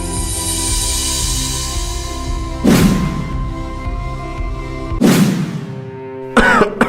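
A man coughing in a few separate bursts, close and loud, with a steady background hum and music tones underneath.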